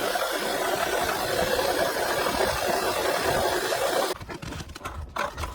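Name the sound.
Volkswagen 1.4 TSI engine with failed coolant pump bearing rubbing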